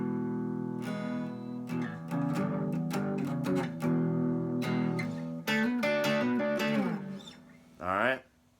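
Electric guitar plays the intro riff of a song as a lesson demonstration, with strummed chords and picked notes running steadily, then stopping before a brief final flourish; played alone with no talking.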